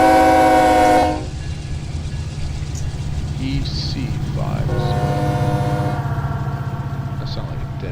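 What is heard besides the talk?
train horn in Run 8 train simulator video game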